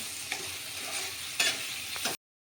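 Chicken and potatoes fry together in a pan, sizzling under several sharp scrapes and clatters of stirring, then the sound cuts off abruptly.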